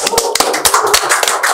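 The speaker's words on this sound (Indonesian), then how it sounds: "Saya minta tepuk tangan yang meriah untuk Bapak Haji Subhan ST." A short burst of scattered hand claps from a small studio audience at a podcast taping, welcoming a guest.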